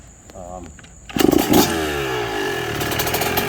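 A 2009 Yamaha YZ125 two-stroke dirt bike catches on a single kick after a moment of quiet clatter, then revs up loud and close into a raspy, steady idle.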